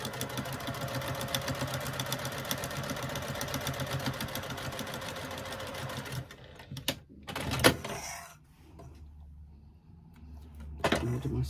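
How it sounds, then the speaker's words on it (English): A sewing machine runs steadily, top stitching a slip pocket on a bag, with a continuous mechanical whir for about six seconds, then stops, followed by a few handling clicks and quieter pauses. "I'm going to do 2 lines of top stitching"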